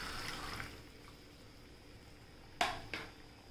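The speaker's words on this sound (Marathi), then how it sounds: "त्याचं पाणी टाकूया" Water splashing into a mixer jar of ground masala, two quick pours near the end after a quiet kitchen lull, close and moderately loud.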